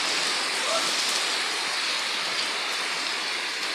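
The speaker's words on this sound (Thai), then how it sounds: "มาดูแรงฝนตกนะครับ" Steady heavy rain pours down continuously on a street in Thailand, a dense hiss of drops hitting surfaces with no pauses.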